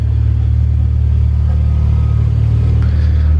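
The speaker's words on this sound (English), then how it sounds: "just letting the car warm up." A 450+whp BMW M3 wagon idling as it warms up, a loud, steady low rumble close by with a faint uneven burble and no voices.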